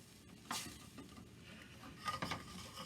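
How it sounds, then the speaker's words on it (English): Chardonnay poured into a hot pan after browning rolled beef sets off bursts of sizzling and stirring scrapes, with louder hissing flare-ups near the start and again toward the end. "I'm going to deglaze this pan"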